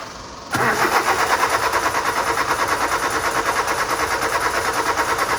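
A Peterbilt truck engine cranks and catches after a quiet moment, then settles into a loud, steady rumbling run with a pulsing, slightly uneven throb, close by.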